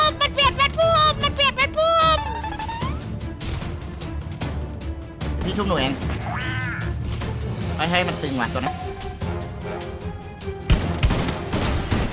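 Gunshots in the video game Free Fire rattle in quick bursts and scattered single shots. They sit mostly under continuous, lively talk from players.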